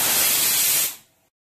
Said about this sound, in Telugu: విజిల్ వేసిందండి, తీసుకుందాం.